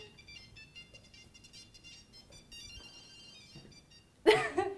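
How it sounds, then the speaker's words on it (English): A thin electronic ringtone plays the William Tell Overture, a bright, fast melody, fairly quiet, then a louder burst of noise cuts in at the end. "I'm playing the ringtone on William Tell"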